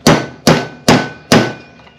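Hammer tapping an 11mm socket to set valve seals on a Kawasaki FX850V engine head: four sharp metallic strikes at an even, unhurried pace, close and loud, each ringing briefly before the next.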